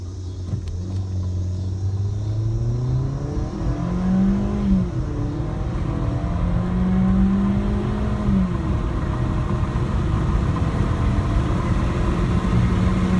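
Engine of a 2016 Ford Fiesta with a 1.6-liter four-cylinder accelerating hard from 0 to 60 mph, steady loud rumble with rising tones that drop at each gear shift, heard from inside the car with no talking.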